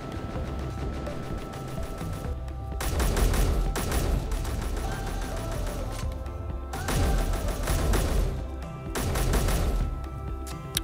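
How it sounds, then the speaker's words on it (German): Sustained bursts of automatic gunfire in the space-building game Space Engineers, dense rapid volleys that surge loudly in several waves with brief lulls between, continuous over the whole stretch. "Es schießt schon wieder."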